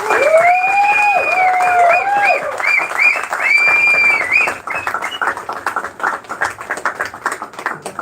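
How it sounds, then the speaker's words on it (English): Big crowd at a live stage event erupting in sustained applause and cheering, with whistles and shouts riding over the clapping, loud and continuous before easing into scattered claps toward the end. "let's hear those big applause and cheers echo again."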